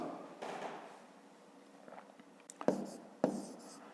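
Pen writing numbers on paper while working a long-division problem by hand, soft scratchy strokes running close up and alone, broken by a couple of sharper taps near the end.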